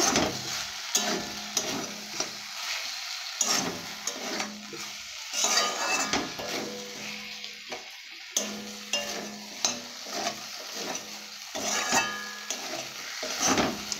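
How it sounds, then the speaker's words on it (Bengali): A spoon scrapes and stirs ginger and garlic paste frying in a pan, rhythmic clacking strokes over a steady close sizzle. "কিছুক্ষণ ধরে ভালো করে কষে নেবে, নাহলে এর যে আদা রসুন সেন্টটা একটা গন্ধ থাকবে, এর জন্য ভালো করে ভেজে নিতে হবে।"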